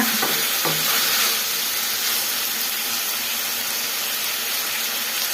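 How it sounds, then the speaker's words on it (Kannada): Tomatoes frying without water for a Karnataka-style tomato chutney, a steady close sizzle and hiss throughout, with a couple of brief stirring knocks near the start and no talk. "ಈ ಥರ ಸ್ವಲ್ಪ ಚೆನ್ನಾಗಿ ಫ್ರೈ ಮಾಡ್ಕೊಬೇಕು"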